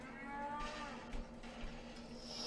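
Mooing from bovine-like enemy machines in Metal Gear Rising, a low drawn-out lowing call that carries over steady game ambience and background music, with a few soft thumps.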